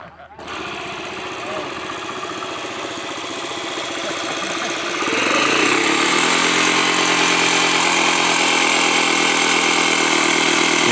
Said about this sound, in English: See what I mean about that engine, that really unique sound.